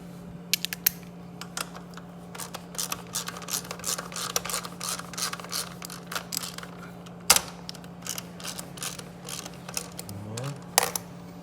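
A 12mm ratchet snugs a bolt home while installing a Graves Motorsports exhaust on a Yamaha MT-07 (FZ-07), giving a long run of quick, light mechanical clicks over a steady low hum, close by.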